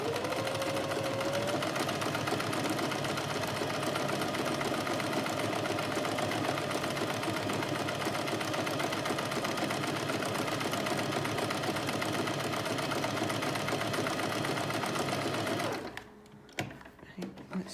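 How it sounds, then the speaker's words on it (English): An Alfa Practik 9 sewing machine runs steadily at a short stitch length, sewing close satin stitches with an even, rapid mechanical whir that carries on unbroken and then stops abruptly near the end. "I've got my stitch length turned right down, so my stitches are going to be very close together, which is going to give me like a satin stitch effect"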